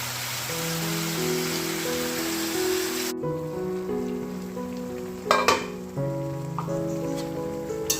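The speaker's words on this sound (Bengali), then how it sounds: "বড়িটা ভেজে নিলাম" Bori lentil dumplings fry in hot oil with a steady crackling sizzle under soft background music, and a brief clatter comes partway through.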